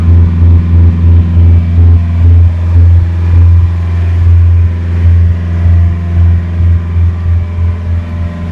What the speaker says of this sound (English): The aft cabin under motor.